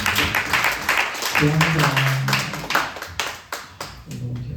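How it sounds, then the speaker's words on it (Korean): High school students clapping at a Sunday church youth service, several rounds of claps with uneven bursts, mixed with voices talking through it. "박수 하도록 하겠습니다"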